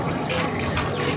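Water from a running borewell flows in a steady, close trickle, with a faint voice in the background.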